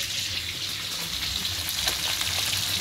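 Sea fish frying in a pan of hot oil, a steady dense sizzle with faint crackles running throughout at close range, no voices.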